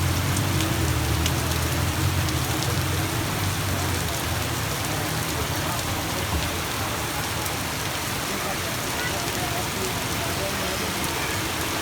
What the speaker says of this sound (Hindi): बहुत ही कमाल की सुपर बारिश हो रही है